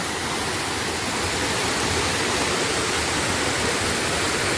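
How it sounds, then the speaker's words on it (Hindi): Rain-swollen stream near a hermitage, running full after overnight and morning rain, a dense, steady rushing roar of water, loud and close, with no pauses and no voices. "ये जो स्ट्रीम आप देख रहे हैं, ये कल रात से जो बारिश हुई, आज सुबह हुई, उसके कारण है।"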